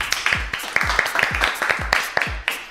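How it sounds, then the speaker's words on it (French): An audience at a French radio show claps in a short burst of quick, close applause, with a voice speaking over it. "merci beaucoup Lila, on peut l'applaudir de nouveau"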